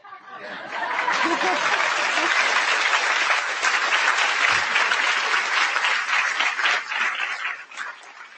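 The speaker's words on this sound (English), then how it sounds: "you can clap if you want to" Sustained applause from a conference audience following a presidential address, dense continuous clapping filling the room for several seconds with a few scattered chuckles, tapering off near the end.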